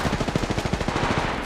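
Rapid automatic gunfire from the mobile battle royale game Apex Legends Mobile, a tight string of close, loud shots in steady rhythm lasting about a second and a half, with no voices.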